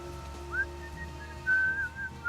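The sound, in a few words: whistle in the video game Deadly Premonition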